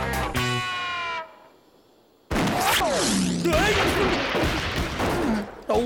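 Cartoon gunfire in a Wild West town, loud distorted bursts of shots and crashing effects tangled with shouting voices and music, cutting off briefly before erupting again.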